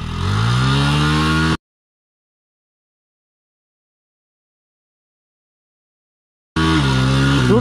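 Motorcycle engine revs as the rider lets out the clutch, a loud rising drone that cuts off abruptly, falls silent for several seconds, then returns just as loud.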